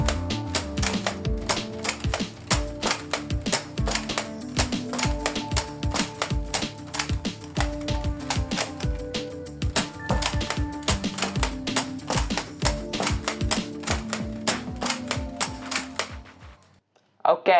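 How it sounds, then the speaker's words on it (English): An X-Shot Excel Xcess toy revolver blaster fires foam darts from two fully loaded cylinders in a rapid, steady stream of sharp mechanical clacks and ratchety clicks, close and busy, before stopping abruptly. "I'll be firing the both cylinders fully loaded with Xcess wallpaper darts at a decent firing rate."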